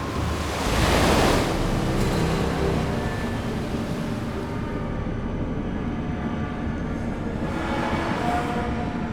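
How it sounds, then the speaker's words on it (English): Heavy seas and lashing rain batter the cargo ship Marine Electric, a continuous loud roar of wind and surf with a surging swell of crashing water near the start and again toward the end. "the Marine Electric endures lashing rain and heavy seas"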